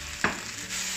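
Chicken slices with three-colour capsicum and Shaoxing wine stir-frying in a wok: one sharp clack of the spatula, then a steady hissing sizzle, close and fairly loud, with no speech.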